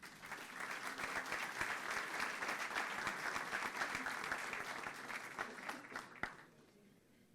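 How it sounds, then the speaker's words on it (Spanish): Sustained applause from an audience in the auditorium of the Bolsa de Comercio de Rosario, dense steady clapping for about six seconds before fading out, with no talk over it. "Fuerte el aplauso para ellos."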